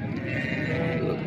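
Sheep bleating loudly and close at a livestock market, a sustained wavering bleat filling the whole moment over crowd murmur.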